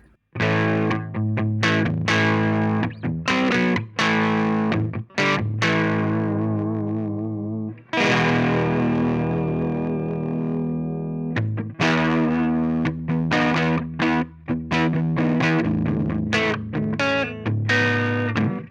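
A loud, overdriven Epiphone Firebird electric guitar plays continuous chords and riffs through a small Fender Champ amp pushed hard, gritty and sustained, with brief gaps between phrases.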